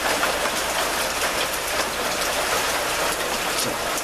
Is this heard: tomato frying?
no